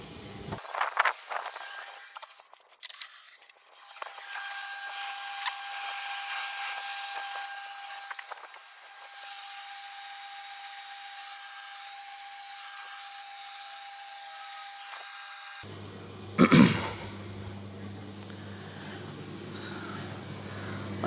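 A Simpson clothes dryer's drum runs with a faint, steady whirring hum for several seconds, then a louder thump and a motor drone come in as the drum changes direction.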